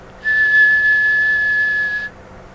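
A tea kettle whistles with one sustained, steady high-pitched tone that starts abruptly, holds for nearly two seconds, then cuts off, alone over a quiet background.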